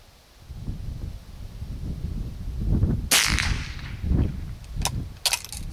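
A No.2 Mk.4 Enfield .22 trainer rifle fires at a small disc outdoors, sharp cracks with ringing hits at about three seconds and again near five seconds, over steady wind noise on the microphone.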